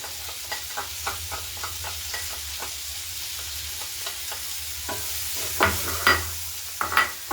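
Chopped onions fry with browned garlic in a pan, a constant close sizzle punctuated by regular scraping strokes of a spatula, growing louder and sharper toward the end.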